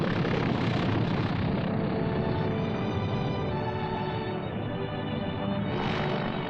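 A WWII propeller airplane touching down on the freshly built Tarawa airstrip, a steady droning engine roar held throughout at a constant, fairly loud level.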